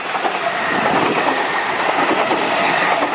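A Steamrail snow train steam locomotive and its carriages thunder through General Motors Station, giving a loud, close, continuous roar with clattering wheels and no voices.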